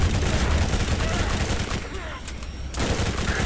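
Gunfire in the Borderlands video game, loud sustained volleys of shots that dip briefly and then return, steady and dense throughout.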